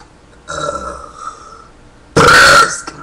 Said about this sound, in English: if anybody has, like, any word they want me to burp